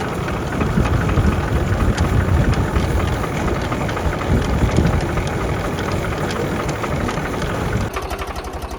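A tractor engine runs in third gear while pulling a ploughing and ridging implement in a potato field, giving a steady, loud, close-up droning rumble that continues unbroken throughout.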